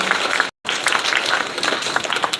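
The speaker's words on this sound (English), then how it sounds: "Give him a round of applause." A crowd at an MMA weigh-in event claps for a team member, giving brisk, busy applause interrupted by a brief silent gap.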